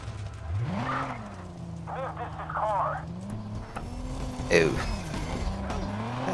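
Car driving and tire skids in the video game Watch Dogs, a steady engine drone with rising and falling pitch and a few short squeals, one louder burst near the end, under a man's occasional exclamations.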